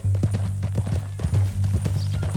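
Horse hooves in the game Red Dead Redemption 2, a steady clip-clop of repeated hoofbeats at a walking pace, close and clear over a low rumbling background.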